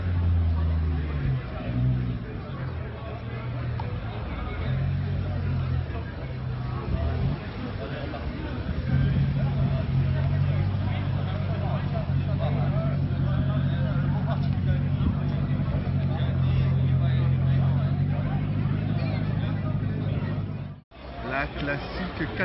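A Renault 4L rally car of about 800 horsepower drives past at a rally event, its engine swelling into a humming growl and then fading amid crowd noise, with someone talking over it throughout.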